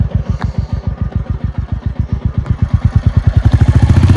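A motorcycle engine idles and revs nearby, a steady rapid thudding rhythm that grows louder and faster toward the end, with no voices.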